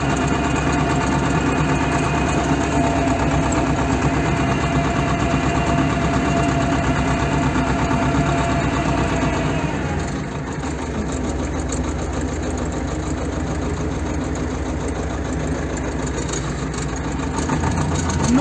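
A T-25 tractor engine runs steadily and loudly while weeding a pumpkin field, a continuous close mechanical drone that eases slightly in level partway through.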